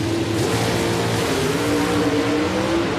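Pro stock drag race cars at the 1994 NHRA Winston Select Finals, Dodge Avengers with 500 cubic inch wedge engines, roar continuously at full throttle, a loud sustained engine drone with a slowly shifting pitch and no talking.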